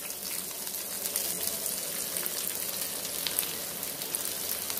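Onions frying in hot oil with crackled cumin seeds for Sambalpuri egg fried rice, a steady close, bright sizzle that holds evenly throughout with no talking.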